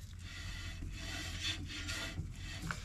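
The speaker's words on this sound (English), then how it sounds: "You can hear the brake rubs in there a little bit." A wheel hub on a Brinkley Z3100 RV is turned by hand with no tire mounted, its brake giving a faint, continuous dry rubbing and rasping that pulses slightly with the rotation.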